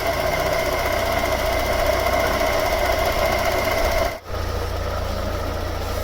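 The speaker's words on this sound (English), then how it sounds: "I've just been giving it a bit of a rev to get the coolant to circulate." A 2.4i engine in a long-parked Opel Omega runs steadily at raised revs to circulate coolant, giving a loud, continuous droning hum up close that dips briefly near the end before carrying on.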